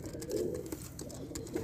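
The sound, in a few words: pigeon cooing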